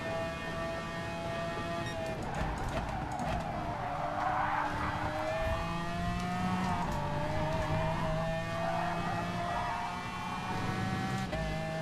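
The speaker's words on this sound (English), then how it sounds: "now he's just kind of put me in the gravel trap then" A race car in GT Sport at Monza skids into a gravel trap, its tires squealing and engine whining in long sliding tones over gritty crunching, loud and sustained without speech.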